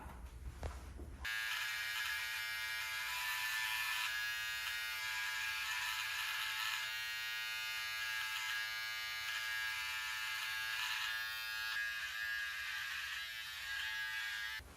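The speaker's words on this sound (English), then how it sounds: "I'm going to use my Wahl trimmer to trim the sideburn at my desired length" Wahl electric trimmer running steadily while trimming sideburns, a close, continuous high-pitched buzz that starts after a short silence and holds at an even level with slight wavers as it moves along the hair.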